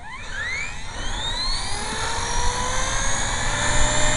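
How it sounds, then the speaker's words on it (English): An HK-250GT RC helicopter spools up in normal mode outdoors in winter, the rotor and motor whine rising steadily in pitch and loudness over a few seconds, close and alone. "I'm going to spool up my heli in normal mode"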